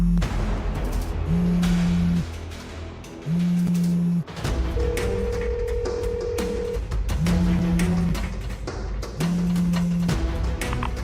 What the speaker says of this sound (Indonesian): Kenapa Sekar malah reject telepon aku?